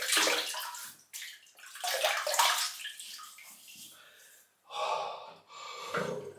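Water drains from a bathroom sink during a wet shave, rushing and gurgling in several loud surges with quieter, trickling gaps between them, close by.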